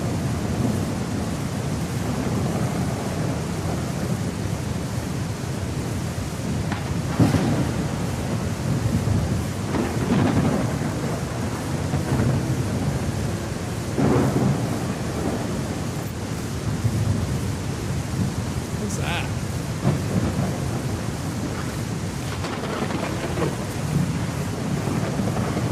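A thunderstorm with rain in the video game Legend of Khiimori: a continuous rain wash with low rumbles and several sharp thunder cracks spread across the half minute, no voices.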